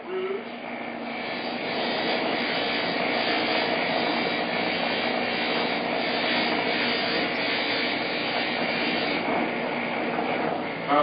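Buffing wheel with fine white rouge polishing acrylic plastic, a steady loud motor whir and rubbing hiss that holds unbroken for the full stretch, with no talk.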